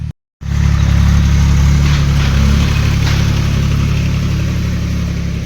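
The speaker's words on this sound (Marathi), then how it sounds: "इथं चकते बघ ट्रॅक्टरच्या आवाजानं." A farm tractor engine runs steadily close by, a loud continuous low rumble that starts abruptly after a brief gap and holds even throughout, with no voices.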